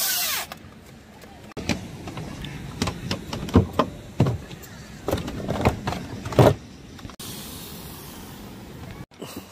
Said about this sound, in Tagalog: Barena.